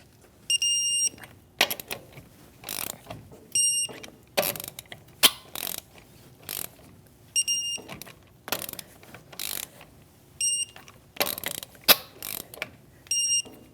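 A click-type torque wrench tightening the wheel lug nuts of a Chevrolet Malibu to 100 foot-pounds in a crisscross pattern: repeated short bursts of ratcheting clicks, close and crisp, punctuated by sharp high metallic pings at intervals.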